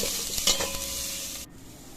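Onions are stirred and fried in a pan until golden brown for masoor dal sambar: a close, bright sizzle with a few spoon scrapes that cuts off abruptly partway through.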